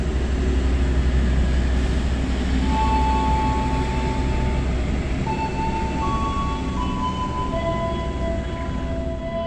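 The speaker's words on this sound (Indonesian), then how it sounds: "ini kereta api Harina persiapan melintas langsung stasiun Cirebon Perujakan menyusul Tegal Bahari" Harina passenger train running straight through Cirebon Prujakan station without stopping, a loud continuous rumble of wheels and carriages close by with steady rail noise and faint horn-like tones through the middle.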